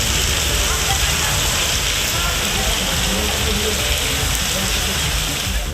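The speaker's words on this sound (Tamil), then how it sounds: "ராஜஸ்தானில் பெய்த கனமழையால் ஆம்பர் கோட்டையின் 200 அடி மதில் சுவர் சேதமடைந்தது." Heavy monsoon rain and rushing floodwater in Rajasthan make a dense, unbroken roar that stays loud and even throughout.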